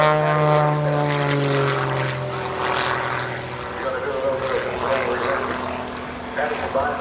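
An Extra 300S aerobatic airplane flies rolls at an airshow, its propeller engine droning and shifting in pitch, with the Doppler sweeping down as it passes and an announcer talking over it.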